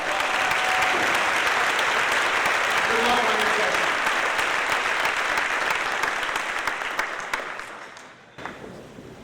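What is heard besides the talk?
audience applause at class day ceremony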